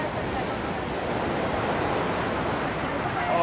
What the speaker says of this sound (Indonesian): Ombaknya luar biasa nih.